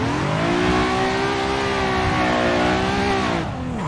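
In a drift simulator, a car engine revs hard during a clutch kick. The rasping, steady high-rev tone holds loud and close, then falls away sharply at the end.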